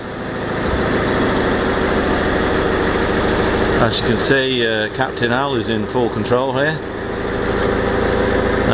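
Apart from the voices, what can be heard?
boat engine running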